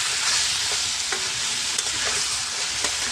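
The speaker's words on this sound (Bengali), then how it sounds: "এটাকে জাস্ট চিকেনটাকে একটু লাল লাল করে ভাজবো" Leftover chicken and tomatoes fry in a pan, giving a dense, continuous sizzle close up, with a few faint scrapes and taps of a spatula. No voices are present.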